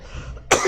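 A single sharp cough bursts out close and loud after a stretch of quiet room noise.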